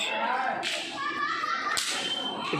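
Children set off firecrackers on Kartik Purnima night at the Satwada Chauki religious site, with candles lit. Two sharp, loud bangs land about a second apart over a busy crowd din with children's voices.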